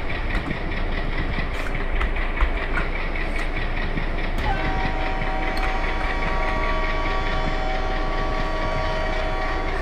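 A WDM3A diesel locomotive idles with a steady low engine rumble, a higher tone entering partway as it moves to couple with an express train during shunting at Vadodara Junction in the Open Rails train simulator.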